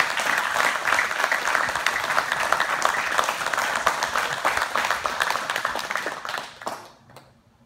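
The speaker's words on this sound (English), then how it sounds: "Let's give Brandon a big round of applause." Sustained, dense applause fills a jiu-jitsu academy on black belt promotion day, steady clapping from a gathered group that tapers off and fades out near the end.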